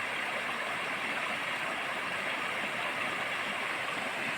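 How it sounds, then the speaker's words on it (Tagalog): A creekside stream flows steadily, a constant close broadband rush of running water with no voices. "Yung pong sapang ayan."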